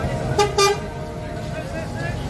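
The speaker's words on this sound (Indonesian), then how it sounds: "Isyarat untuk segera berangkat kalau klakson kayak gitu tuh." A bus horn gives two short honks in a crowded, slow-moving street, standing out over steady traffic rumble and background chatter.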